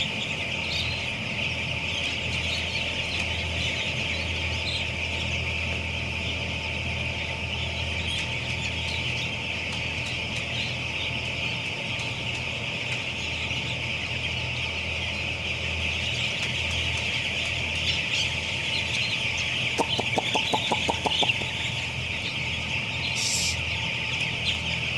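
Chickens on a poultry farm cluck and squawk in a dense, constant flock chorus, with occasional louder sharp squeals rising above the steady din and a low background hum.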